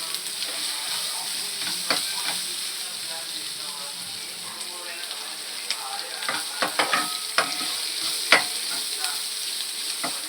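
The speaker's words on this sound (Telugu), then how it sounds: "మధ్య మధ్యలలో కలుపుకుంటూ ఉండాలి అడుగంటకుండా ఉంటుంది" Broccoli masala curry fries in a pan with a steady, loud sizzle, while a spoon stirs it in repeated close scraping strokes that grow busier toward the end.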